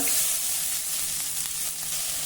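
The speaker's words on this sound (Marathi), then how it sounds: "आता कढईमध्ये कांदा घालूया." Onion frying in oil in a kadai, a steady, close sizzle with broadband hiss that runs alone for the full short stretch, with no talking over it.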